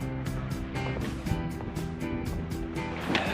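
Rushing river water along the Shey Phoksundo trek, a steady, dense roar of churning flow close by, with no break across the whole stretch.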